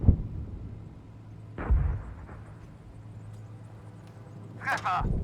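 A tank main gun firing at enemy tanks in the PC game Gunner HEAT, heavy booming blasts at the start and again mid-clip over a low engine rumble, with someone talking briefly near the end.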